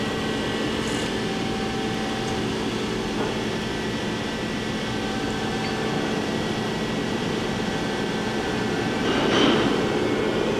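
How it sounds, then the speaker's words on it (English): Steady mechanical hum of a new 2007 Johnford ST-40G+CF CNC lathe spindle turning slowly in its lowest gear range, a constant droning whir with faint tonal lines and no talk. "Right now, the spindle is running at 30 in gear range 1."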